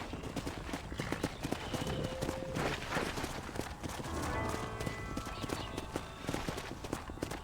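Horse hooves clip-clop at a steady walking rhythm in the western video game Red Dead Redemption, close and clear, with spoken dialogue and a brief whinny mixed in.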